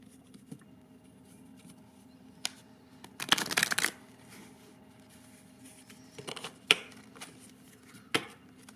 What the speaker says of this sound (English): Okay, I'm going to shuffle.